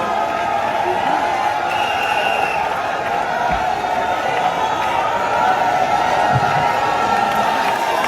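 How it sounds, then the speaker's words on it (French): A large crowd at a Congolese diaspora gathering in Belgium for the president applauds and cheers continuously in a dense, loud wash of clapping and voices, with shouts and whoops mixed in. "applaudissements"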